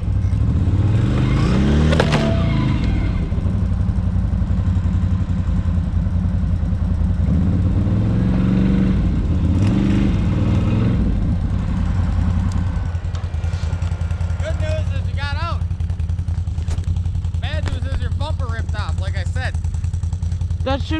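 A car stuck in snow with its engine revving in repeated surges over a steady idle, close and loud, while people talk over it.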